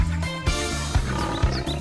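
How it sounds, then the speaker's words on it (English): A lion roars at a zoo, one in a series of big cats and other zoo animals, a loud, full growl held steadily with a few deep thumps underneath and no talking. "Lion."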